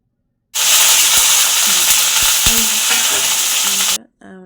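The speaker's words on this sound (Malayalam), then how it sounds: "അതിലേക്ക് വെളിച്ചെണ്ണ ഒഴിച്ച് എന്നിട്ട് കടുക് പൊട്ടിക്കുക" Mustard seeds splutter and crackle in hot coconut oil for a Kerala buttermilk curry, a loud steady sizzle with sharp pops scattered throughout, close up and without talk, stopping abruptly near the end.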